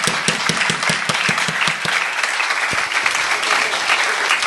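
An audience at a speech event applauds to welcome the chairman, starting with a few distinct claps that quickly merge into a steady wash of clapping, moderately loud for several seconds.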